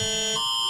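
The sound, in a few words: emergency alert alarm tone on phones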